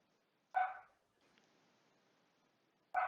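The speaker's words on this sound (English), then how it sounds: "my dog has a question. Yeah, I keep hearing him in the background" Two sharp dog barks from the speaker's dog in the background, one near the start and another at the end, separated by a stretch of faint room hiss.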